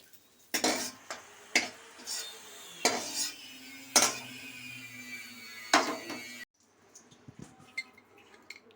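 Raisins fry in ghee in a pan for veg fried rice, with a run of loud metal spatula clanks and scrapes over a gentle sizzle, then a quieter stretch of faint clicks.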